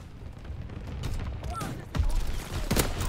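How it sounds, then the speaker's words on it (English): Bursts of anti-aircraft fire crack out in Call of Duty: WW2, with a dense broadband rumble of gunfire and a louder sharp volley near the middle, under faint game noise. "Anti-aircraft burst has commenced."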